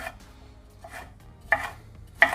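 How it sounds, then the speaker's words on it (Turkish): A knife slices chili peppers thinly on a cutting board, sounding as a few sparse, crisp chops, the last two sharper and louder, close by with quiet between them and no voices. "Biberleri de ince ince kestikten sonra"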